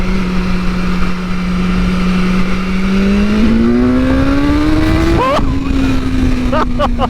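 A 2022 BMW S1000R sport motorcycle's loud engine drones steadily, then its pitch climbs as it accelerates hard in second gear, briefly dips with a gear change, and keeps pulling close by.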